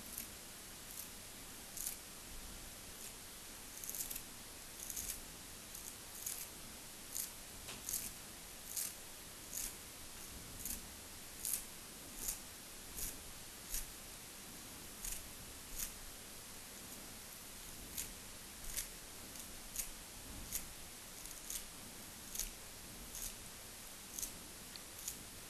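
Scissors snip coriander for a Javanese-style fish dish, a steady run of sharp, crisp cuts at close range, repeating roughly every second with no talk.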